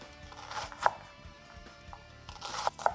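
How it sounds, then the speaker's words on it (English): A knife dicing an onion on a cutting board, quick sharp chops in uneven bursts, a few louder crunching strikes near the start and end over quiet kitchen background. "And there you have it, a diced onion in no time at all"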